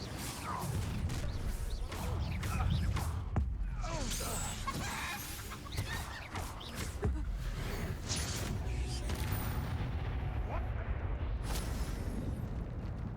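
Confringo and Incendio spells fired during combat in the Hogwarts Legacy video game. Repeated blasts, crackles and whooshing impacts play over continuous battle noise, with occasional voices.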